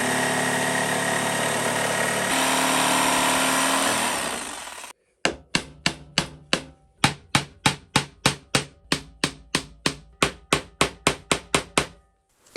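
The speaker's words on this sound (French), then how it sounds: "je coupe ma planche de bois en prenant en compte cette épaisseur" A wooden plank being cut for a chessboard frame: a steady power-saw whine for about five seconds, then a run of sharp, evenly spaced knocks, loud and close, with no talk.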